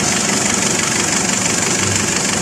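A car engine idles steadily during an air-conditioning refrigerant refill at a garage, a constant close hum and rumble with a faint hiss layered on top and no voices.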